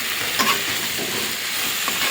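Water poured into a hot pan of fish curry with vegetables sets off a loud, steady sizzle and hiss that rolls on for a couple of seconds.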